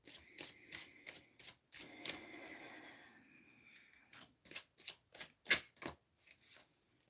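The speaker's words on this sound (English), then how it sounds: "Okay, that's enough shuffling." Tarot cards being shuffled by hand nearby: a steady riffling rush for a few seconds, then a string of separate sharp card slaps and flicks in an uneven rhythm, with no talking.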